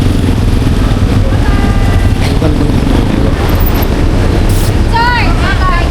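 A motorcycle on a long ride rumbles steadily with a constant engine drone and heavy wind buffeting, loud and close throughout, with a few faint higher tones near the end.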